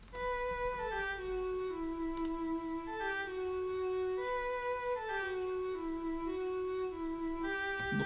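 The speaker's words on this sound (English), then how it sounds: "This has got to be a solo cello" Solo cello plays a slow, sustained ending melody, each bowed note held long and gliding into the next, clear and alone at moderate volume.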